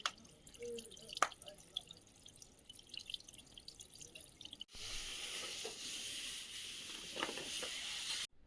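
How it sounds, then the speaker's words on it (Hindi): Dirty water dripping and trickling down from a tub outdoors, a faint steady patter with a few sharper drips, quiet and close in a calm rural setting. "इस तरह से यहाँ पे जो गंदा पानी है उसको नीचे गिराया जाता है"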